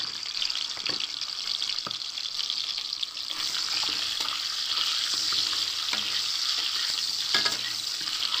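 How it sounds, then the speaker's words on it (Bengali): Sliced pointed gourd frying lightly in oil in a village-style kitchen, a steady, close, bright sizzle that runs the whole time with small crackles and pops, and no talking. "দিয়ে আমি এই যে কেটে রাখা যে পটলগুলো সেইগুলো একটু হালকা করে ভেজে নেব"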